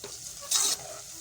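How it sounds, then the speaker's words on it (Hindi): Onions fry in hot ghee with a soft, close sizzle, broken by a brief louder burst of hissing or a stirring scrape midway through the short stretch. "अब इसमें हम प्याज शामिल करेंगे। और इसे गोल्डन ब्राउन कर लेंगे।"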